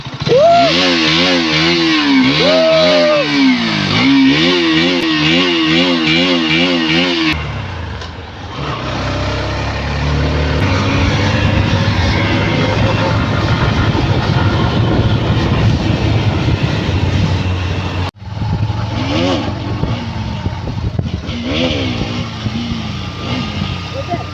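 Motorcycle engine revving hard to the limiter while riding, a loud rising and bouncing whine at first that gives way to a roaring ride with wind noise, close throughout and continuous.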